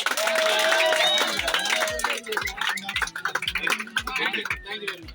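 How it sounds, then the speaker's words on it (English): Students clap for a guest speaker at the close of an industrial visit to HPCL in Vizag, dense applause mixed with crowd noise and cheering that thins into scattered claps, with thumping footsteps. "Give a round of applause for sir."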